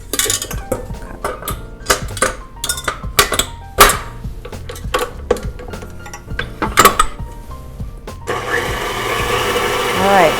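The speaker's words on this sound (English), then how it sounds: "My whisk attachment, and we're just gonna let the mixer do all the heavy work here." A stand mixer fitted with a whisk attachment churns vegan, dairy-free and egg-free Christmas cookie dough made with ancient grains, giving a loud, uneven clattering whir with repeated sharp knocks before settling into a steady, smooth drone at the end.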